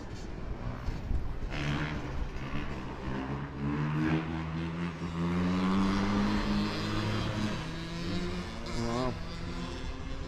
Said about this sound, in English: Doing wheelies on them bikes.